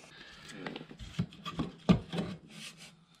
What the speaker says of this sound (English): We're going to mark the area that we want to gouge out.